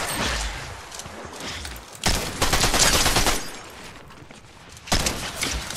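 Shotgun blasts in an Unreal ranked match, several heavy loud bursts with a dense volley around two to three seconds and another near five, amid ongoing game noise and mixed with other weapon fire.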